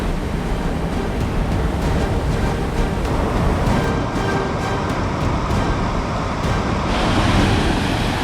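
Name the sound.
waterfalls pouring over mossy rocks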